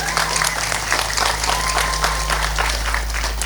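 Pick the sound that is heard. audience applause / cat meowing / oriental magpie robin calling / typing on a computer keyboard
audience applause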